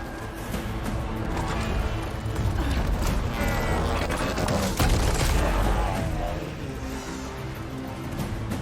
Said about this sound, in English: Un tā ir bomba.